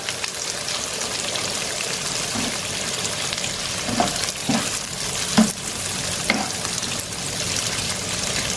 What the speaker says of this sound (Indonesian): Nah, hati ayamnya ini sembari kita goreng ya, biar ada rasa gurih-gurihnya gitu loh.